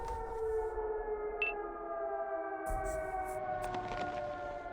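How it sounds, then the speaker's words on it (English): A civil defense siren wails steadily throughout a video game match, loud sustained tones rising and holding, with a brief high beep and sharp bursts of gunfire and impacts cutting in partway through. "I feel like the siren wailing is much louder than it generally is on my end here."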